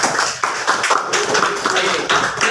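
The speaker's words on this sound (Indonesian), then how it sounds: "Semuanya kasih tepuk tangan dulu." A classroom of students clapping their hands together in a lesson, a steady rhythmic patter of many claps close by with a little voice underneath.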